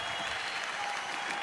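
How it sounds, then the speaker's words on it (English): A boxing crowd applauds a heavyweight world champion after a fight, the clapping and cheering forming a dense, continuous roar that stays loud and unbroken throughout. "give him a round of applause as our heavyweight champion of the world"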